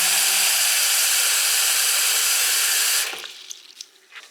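Water rushes steadily from a tap into a bathroom sink after a clog repair, draining straight down, a loud continuous broadband hiss that cuts off abruptly near the end, leaving faint drips and small knocks.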